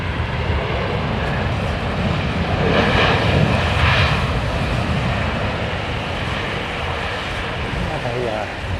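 An airliner lands at London Heathrow Airport in heavy snow, giving a loud, continuous broadband engine roar that swells briefly in the middle, with voices talking over it.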